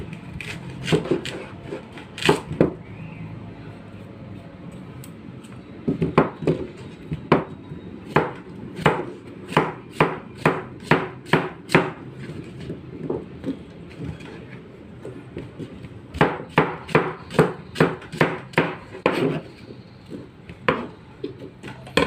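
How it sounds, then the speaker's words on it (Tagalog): A knife chops vegetables on a cutting board while pork sinigang is being prepared: quick rhythmic bursts of close, sharp taps separated by short pauses, with no talking. "Hiwain natin din guys"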